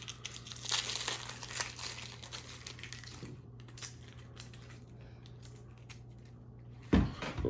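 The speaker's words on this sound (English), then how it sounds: "we just gotta peel them off." Fresh mushrooms have their skins peeled off by hand for a homemade cream of mushroom soup, making soft, close, intermittent crinkly tearing sounds at low volume, with one sharper handling knock near the end.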